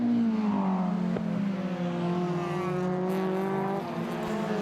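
Race cars in a racing video game at Pukekohe roar down a straight into a braking zone, engines droning loud and close with pitch falling as they slow, the tone rising again near the end.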